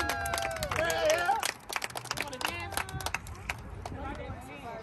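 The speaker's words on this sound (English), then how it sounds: "Let's give them both a big hand for their birthday." Crowd clapping and cheering for a children's birthday party, loud and sustained with a crowd's babble mixed through the applause.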